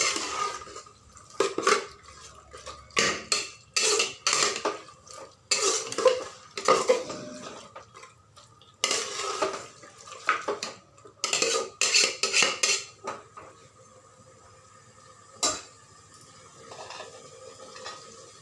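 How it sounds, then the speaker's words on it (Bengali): A home cook stirs handi mutton in a pot, the spoon scraping and clinking against the metal in irregular bursts, with short pauses and a faint simmer underneath. "আবার একটু নাড়াচাড়া করে নিব।"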